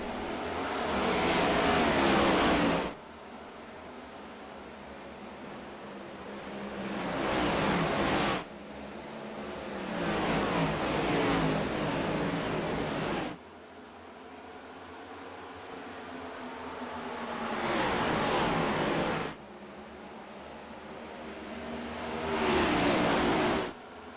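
Race cars at Rockingham in the Outlaws series roar past in repeated loud waves, each engine surge swelling and fading as packs of cars sweep by, with steadier droning engine noise between the passes.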